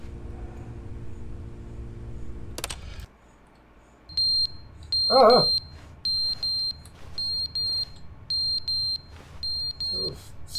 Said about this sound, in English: Smoke alarm definitely still works.